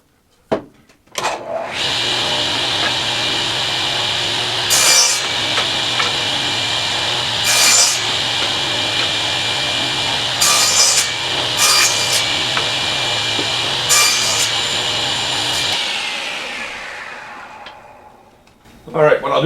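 A saw cuts 1 by roughly 1/2 inch wood stock into segments, making a loud sustained rasping grind with repeated brief bursts as pieces are cut, then it winds down, close up.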